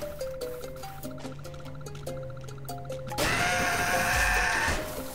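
A goat bleats in the video game Goat Simulator, a loud, close cry that breaks in over a light stepping game melody and holds for about two seconds.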